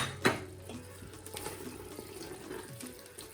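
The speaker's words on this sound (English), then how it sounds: "As you can see, I was just gradually adding water." Water is gradually poured into a cooking pot of pondu with fish, a faint, continuous trickling splash after a brief louder gush at the start.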